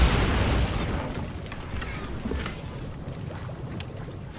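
A Bombarda blast spell in Hogwarts Legacy goes off as a loud booming burst at the start, then settles into a rumbling, crackling wash of debris and low noise that slowly fades.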